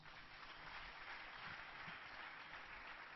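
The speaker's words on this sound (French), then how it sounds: "Acclamons Jésus." A church congregation applauds with steady, dense clapping that stays faint and distant throughout the short stretch.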